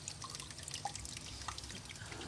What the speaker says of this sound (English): the leaking stuff that you can see over there is leaking on the sensor